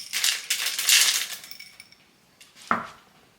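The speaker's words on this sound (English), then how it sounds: "I'm going to add some chocolate chips." Chocolate chips are tipped into a glass for a chocolate coffee frappe. A close, rattling patter of small pieces lasts about a second and a half and then thins out, followed by one sharp clink with no voices.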